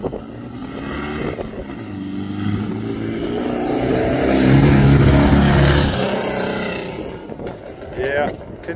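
A dune buggy engine with a poorly running carburetor revs unevenly, rising to a rough, loud peak around the middle before dropping back, with a rattling, uneven idle around it.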